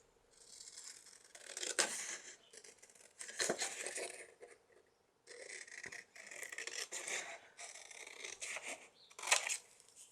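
Scissors cutting thin card, a close, quiet series of crisp snipping bursts in irregular groups separated by short pauses.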